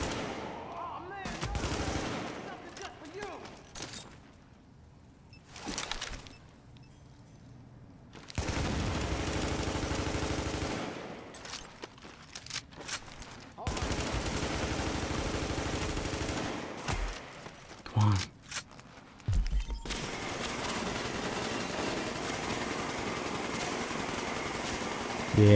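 Gunfire rattles through a firefight in the video game The Division, with long bursts of automatic fire and short pauses between them, loud and close, plus a few sharper single shots.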